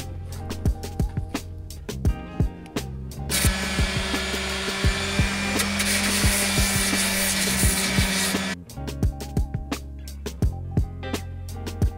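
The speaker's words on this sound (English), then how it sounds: "there were a lot of edges that needed to be sanded down" A sustained power sander grinding down wood edges in a van build runs for about five seconds, framed by sharp knocks and tapping before and after.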